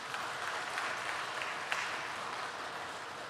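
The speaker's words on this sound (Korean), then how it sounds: "우리 그분들 위해서 박수 한번 칠까요?" A church congregation applauds together during an evening prayer service, a steady dense clapping that fills the room without pause, with no voices over it.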